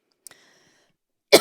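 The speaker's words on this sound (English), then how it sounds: "Hold on, I have to cough." A single sharp cough bursts out close by after a brief faint click, with silence in between.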